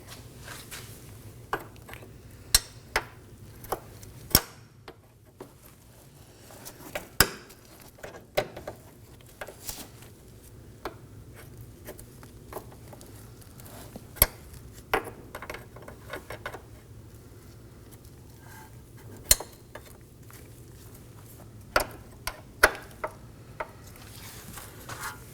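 A 10mm wrench snugs a rear brake hard line fitting onto the brake hose of a 2015-2023 Nissan Maxima, giving scattered sharp metallic clicks and ticks over a low steady hum, close by with no talking.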